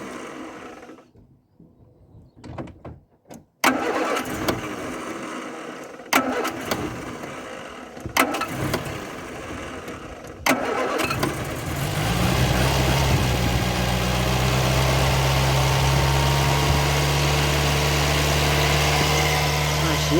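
A Ford Fiesta Mk1 engine starting with choke on: short cranking attempts and a few sputters, then it catches and settles into a steady, loud, close idle that runs to the end.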